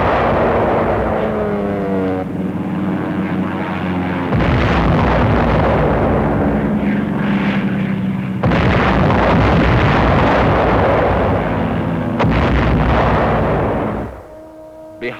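Bomb blasts and an artillery barrage from a 1944 wartime film roll on as a dense, loud, continuous roar of explosions that cuts off abruptly near the end.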